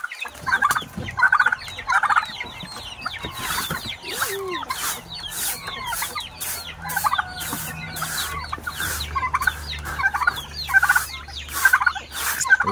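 Turkeys and chickens on a small farm gobble and cluck in repeated loud bursts, mixed with chirping birds, a busy close-up chorus that lasts the whole time.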